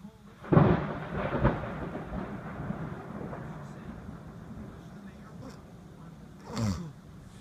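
Thunder from a storm: a loud, close rumbling crack near the start that rolls and fades into a long low grumble, with a second, smaller rumble near the end.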